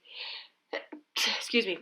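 A single close sneeze during a conversation, with short spoken bursts from people talking around it.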